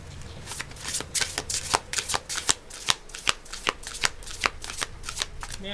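A deck of tarot cards is shuffled by hand, giving a rapid run of sharp riffling snaps and slaps, close and steady across the whole stretch, with only a faint voice now and then.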